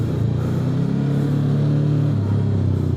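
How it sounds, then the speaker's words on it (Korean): Water-cooled 450 engine of a Royal Enfield Himalayan 450 motorcycle rumbling steadily up close, a low continuous drone with a slight rise in revs and no talking. "450 수랭 엔진 나쁘지 않은데"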